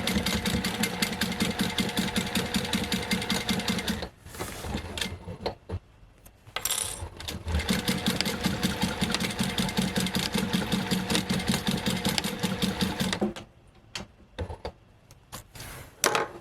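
Sewing machine top-stitching fabric for a Mandalorian costume flak vest, a steady rapid mechanical whir in long runs, pausing twice with brief clicks and handling noise, close and alone.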